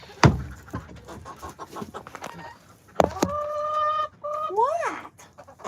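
Chickens, including a rooster and mixed breeds with red, clucking and squawking in a backyard chicken run and coop, with rising pitched calls and scattered sharp clucks close to the microphone.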